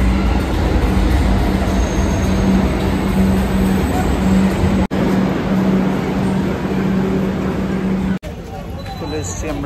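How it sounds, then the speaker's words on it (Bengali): Train noise at Dum Dum metro station in Kolkata, a loud steady rumble with a low hum running almost continuously, briefly cut twice, with faint voices nearby. "এটা হলো দমদম মেট্রো স্টেশন।"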